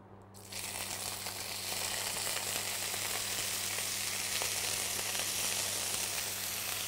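Shrimp sizzling loudly in hot olive oil in a pan, a dense continuous frying crackle that swells just after they drop in and holds steady throughout.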